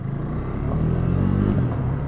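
A KTM RC390 motorcycle cruising at about 70 mph on a test ride, its engine giving a steady, loud, close rumbling drone with a slight rise in pitch toward the middle.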